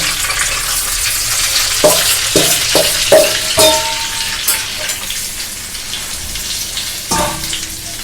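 Spiced dough mixture for dal-free radhaballabhi being sautéed in oil in a pan, with a steady sizzle and a few distinct clinks and scrapes of stirring, close and fairly loud.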